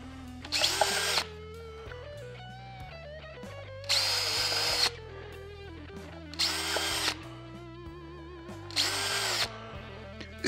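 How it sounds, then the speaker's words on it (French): A power drill bores into the neck of a Gretsch Billy Bo guitar kit in four steady whining bursts, each about a second long, with quiet gaps between them. The sound is close and there is no talking. "Pour essayer le manche, on finit le perçage"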